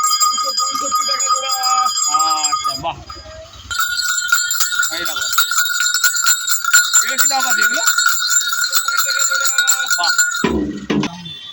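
Ghungur bells on a decorative bak are shaken and rung in bright, jingling bursts, close by, while voices talk over and between the ringing.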